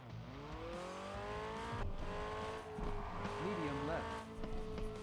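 Rally cars race in the arcade video game Rally Arcade Classics, with steady engine drone, rising revs and tire noise running continuously, while a voice talks over the action.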